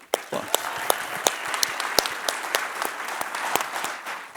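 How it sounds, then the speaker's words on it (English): An audience at an industry awards ceremony claps steadily, with a moderate crowd and sharp individual claps standing out close by, lasting a few seconds. "Let's everyone give them a big round of applause."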